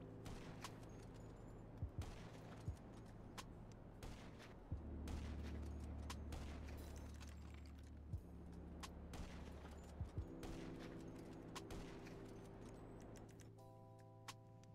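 Sniper rifle shots aimed at Hydra jets in GTA Online: several sharp, loud cracks at irregular intervals over a steady engine drone and background rumble.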